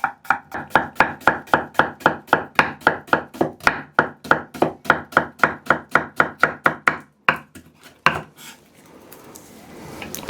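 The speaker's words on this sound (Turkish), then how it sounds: "Mümkün olduğunca ince kıyıyorum." Onions being chopped very finely with a knife on a board for a meat börek, a fast, steady run of about two dozen sharp, close cuts, then a brief pause and a few scraping sweeps.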